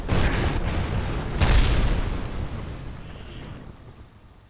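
A missile explosion in Kerbal Space Program, fired from a nuclear submarine: a loud, deep boom with a rumbling burst that swells briefly and then fades out over several seconds.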